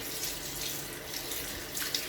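Tap water pouring into a roaster pan holding jerk pork, a steady close splashing rush that runs evenly without pause and without talk.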